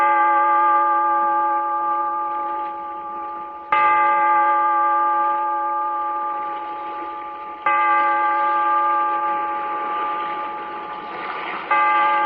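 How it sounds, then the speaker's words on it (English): A deep bell in an old radio drama tolls four times at an even, slow pace. Each ringing stroke hums on and fades before the next strike lands. "Bellkeeper, toll the bell, so that all may know we are gathered again"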